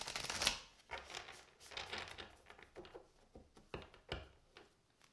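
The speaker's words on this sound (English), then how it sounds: "we're going to try shuffling one more time, and if we don't get a card out" A deck of tarot cards is shuffled in quiet, uneven bursts of soft riffling and slapping, several short rustles spread across the few seconds.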